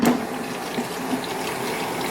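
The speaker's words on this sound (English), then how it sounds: "We're gonna go and fill this up with some water." Tap water runs steadily into a container for grapefruit detox water, a continuous close hiss and rush of filling liquid with no speech.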